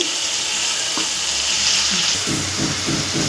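Onion paste frying in oil in a pan for a mung bean fritter curry, giving a steady, close sizzle with a few light stirring scrapes and no talk.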